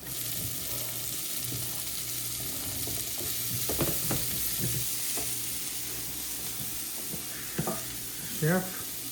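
Onion and capsicum fry in a pan with a steady close sizzle, broken by a few scrapes and stirring knocks.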